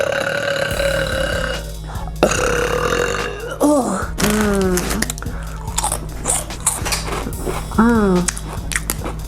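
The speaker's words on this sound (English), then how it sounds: "Oh, nice oniony burps." A girl burps repeatedly after eating onions. Several long, loud, croaky belches come close to the mic, mixed with chewing and crunching sounds.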